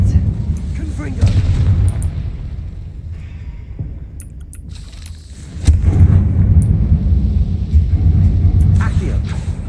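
Confringo spell blasts in Hogwarts Legacy, booming rumbling impacts against game ambience with a player's voice talking over them.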